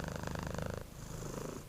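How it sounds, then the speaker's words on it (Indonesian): A cat purrs close by in a steady, rhythmic rumble of rapid pulses. The breathing rhythm shifts briefly midway through a short, quiet stretch. "ketika mereka bernapas, udara menyentuh otot pernapasan yang menciptakan suara mendengkur"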